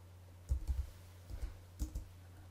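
A handful of soft keystrokes on a computer keyboard while entering text in Adobe Illustrator: two or three quick clusters of muted clicks with dull thumps, close and quiet against a faint background hum.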